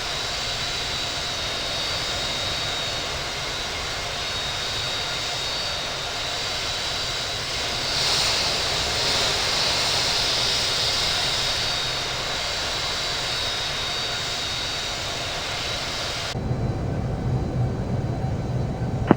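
Southwest Boeing 737 MAX 8 jet engines roar during takeoff from JFK, a loud, sustained, broadband rumble and whine that swells slightly midway and continues steadily throughout.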